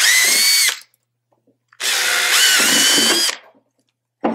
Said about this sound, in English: first, drill them out to a quarter of an inch.